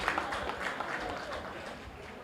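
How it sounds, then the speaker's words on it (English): Audience at a conference opening ceremony applauding a speaker, a dense, moderately loud wash of clapping from a crowd that holds steady for a couple of seconds, with some voices mixed in. "a round of applause to Fadi for getting us all excited for the conference"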